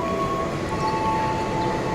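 Pangrango passenger train in Indonesia, a steady rumbling roar with a sustained tonal hum, heard nearby and continuous without any talk.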